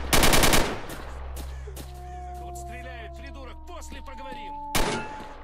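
Rapid bursts of gunfire crackle at the start and again near the end in the video game STALKER: Shadow of Chernobyl, with a steady hum and faint chatter between the bursts.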